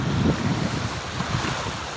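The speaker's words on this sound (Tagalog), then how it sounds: "yung pagaspas ng hangin, ang lakas talaga" Strong seaside wind roars and buffets steadily at Half Moon Bay, Dhahran, Saudi Arabia, with a broad rushing noise and surf-like wash underneath, loud and close throughout.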